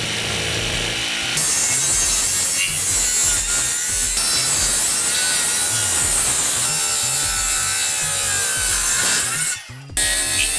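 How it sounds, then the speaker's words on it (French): A wooden board for a garden pool house kit is cut along a pencilled line with a hand saw, giving steady, loud back-and-forth rasping strokes close by for about nine seconds before stopping. "On vient découper ce qu'on a tracé."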